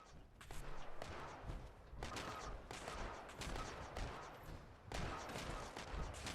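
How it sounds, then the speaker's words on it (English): Turrets firing in the video game Fallout 76, rapid bursts of gunfire crackling in clusters with thuds between them, fairly loud and continuous through the stretch. "Your turret should be going off right there."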